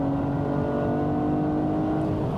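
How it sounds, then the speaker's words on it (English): A Porsche Cayenne S accelerates hard at full throttle, its engine producing a steady, loud drone with a rising tone heard from inside the cabin, no voices over it. "you hit the throttle."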